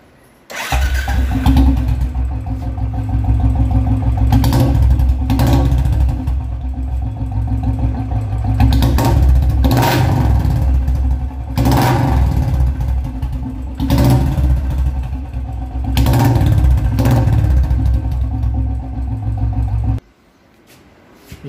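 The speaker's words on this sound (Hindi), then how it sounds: "ये लॉन्ग पंजाब साइलेंसर था विद सी बैंड पाइप के साथ" Royal Enfield Bullet 350 motorcycle fitted with a long Punjab silencer and bend pipe, starting up and running for about twenty seconds with a loud, close, thumping exhaust that swells in several revs before cutting out.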